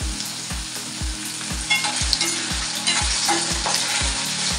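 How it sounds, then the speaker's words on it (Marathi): Potatoes fry in a hot pan for poha, giving a steady close sizzle throughout, broken by regular scraping thumps of a spatula stirring about twice a second. "गॅस कमी करून आणि बटाटे ॲड करते"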